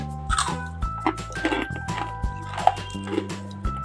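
Crisp, crackly crunching of fried pakodi being eaten in quick irregular bursts, close up, with some faint tonal background noise.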